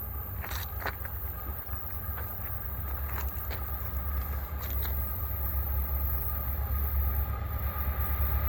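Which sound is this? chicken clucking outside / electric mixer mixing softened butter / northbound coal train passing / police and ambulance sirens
northbound coal train passing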